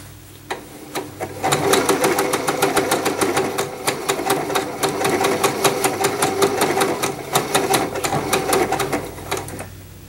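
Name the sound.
Janome sewing machine stitching a blind hem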